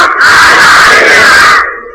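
A large crowd roars a slogan back in unison, a loud sustained chant that holds for over a second and then fades.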